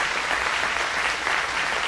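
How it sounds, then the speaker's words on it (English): Dense, steady applause from an audience fills the room, honoring elected officials; a continuous wash of many hands clapping at even loudness throughout. "give those folks a round of applause"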